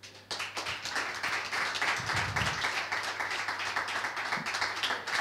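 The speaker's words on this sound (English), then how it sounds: "they deserve a round of applause too" Audience applause breaks out suddenly at a coding bootcamp demo day and continues as a dense, rhythmic clapping that holds steady for several seconds, with a brief low thump partway through.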